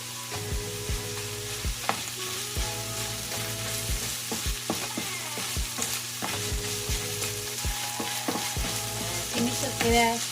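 Bitter melon and ground pork sauté in a pan, a steady sizzle broken by repeated scraping and stirring strokes of a utensil against the pan, continuous and close with no talk.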